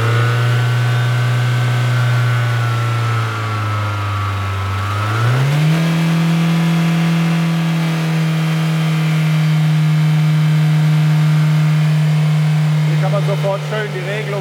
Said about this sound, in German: Guck mal, ich gebe noch mal ein bisschen Gas.